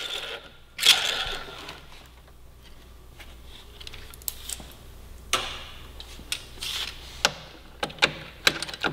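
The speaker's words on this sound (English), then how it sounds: "Remove these two fasteners here." Fasteners come off a Kawasaki Ninja 400 motorcycle with scattered close clicks and ratcheting ticks, irregular sharp taps over quiet background, no talk.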